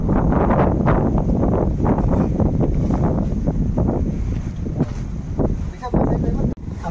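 Strong wind sweeps across a mountain pass at Pabe Ghat, a loud, continuous gusting roar buffeting the microphone, with people talking over it and the wind easing slightly toward the end.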